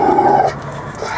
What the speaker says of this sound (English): we got crazy dogs all up and down here today